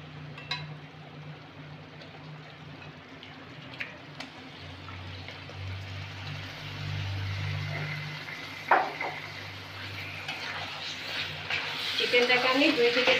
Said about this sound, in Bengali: চিকেনটাকে আমি 2 থেকে 3 মিনিট ভালো করে নেড়ে নেব, মশলার সাথে মিশিয়ে নেব।